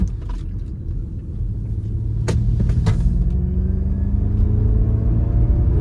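An electric Ford sports car of over 300 hp, weighing more than two tonnes, accelerates uphill through a winding road section, with a steady loud motor whine and road rumble that builds gradually.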